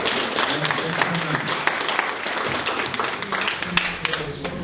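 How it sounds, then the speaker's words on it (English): An audience gives a sustained round of applause after a guest presenter's social media marketing and training talk, dense clapping throughout with a few sharper claps standing out. "let's give Leslie one big round of applause."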